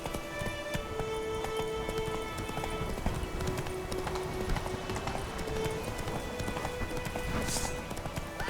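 Hooves of a horse in the video game The Witcher 3 beat a steady rhythmic clip-clop at a gallop, moderately loud over soft ambient game sound, with no speech.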